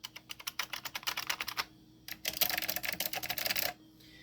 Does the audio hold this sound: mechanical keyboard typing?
yes